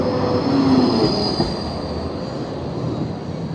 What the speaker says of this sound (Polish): Ruch tramwajów jest ogromny. Jeden przyjeżdża, drugi odjeżdża.